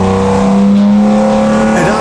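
A V12 engine runs hard on a dyno, a loud sustained steady roar with a strong low hum throughout, and a voice speaking over it.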